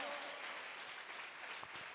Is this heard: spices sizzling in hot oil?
no